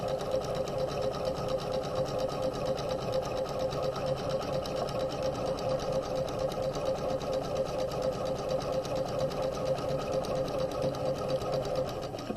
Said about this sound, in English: we're going to sew along the sleeve